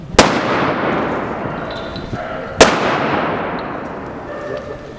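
Two sharp, loud arquebus gunshots about two and a half seconds apart, each followed by a long echoing rumble that fades slowly.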